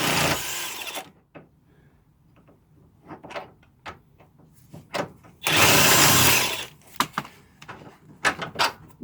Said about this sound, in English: You don't have to use power tool, obviously, it's pretty easy done by hand tools.